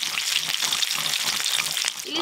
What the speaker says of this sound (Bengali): ইলিশ মাছের মাথাগুলো আরেকটু ভালো করে ভাজা হতে থাক।